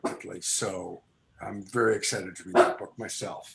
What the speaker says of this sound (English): That's my dog barking about it.